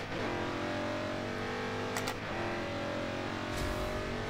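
A car revving hard and accelerating through gear shifts during a drag race in Forza Horizon, an Ultima GTR or Joss JT1. The engine roar is loud and close and runs continuously with brief dips at each shift.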